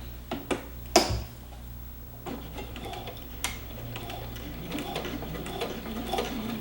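A sewing machine runs back stitches on a shirt pocket, with a sharp clack near the start and then soft, quick mechanical ticking, close and fairly quiet.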